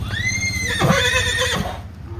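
A Marwari mare lets out a loud, close whinny that rises and breaks into a shaky, quavering neigh, with hooves shuffling and clopping beneath it.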